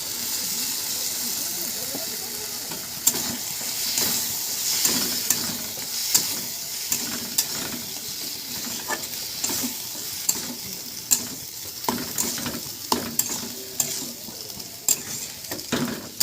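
Boiled ridge gourd and potato fry in a spice paste, giving a steady close sizzle and hiss broken by frequent sharp scrapes and taps of a spoon stirring in the pan.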